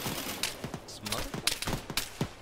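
Scattered pops and rapid bursts of gunfire crackle at moderate distance in the Arma 3 military video game, arriving in irregular clusters under a fairly busy background.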